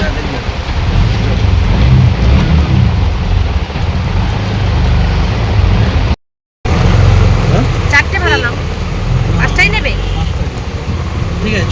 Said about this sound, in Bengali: বৃষ্টি শুরু হয়ে গেছে দেখো